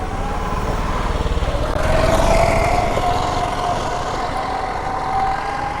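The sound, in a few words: vehicle engine being started after adding fuel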